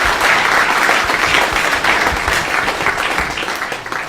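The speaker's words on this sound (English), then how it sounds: "Please, give Akufo-Addo a big clap." A crowd breaks into loud, close applause during a political speech, with many hands clapping in a dense, continuous roar that stays strong for about four seconds before easing slightly at the end.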